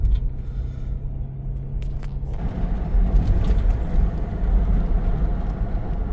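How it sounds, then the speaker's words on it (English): A 2008 Toyota FJ Cruiser with 250,000 miles and a freshly replaced rear driveshaft U-joint pulls away on a test drive. A steady low cabin rumble swells partway through as the engine picks up, with no talking. "here we go for a little test drive"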